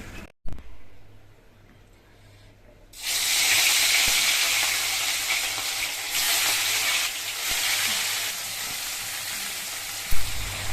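Fish and potatoes frying in a pan, a quiet start giving way to a loud, steady sizzle that holds to the end, with a brief clatter near the close.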